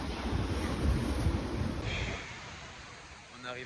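Ocean waves wash onto a shore in a loud, rushing surge, then draw back into a quieter hiss as the water recedes, with wind noise on the microphone.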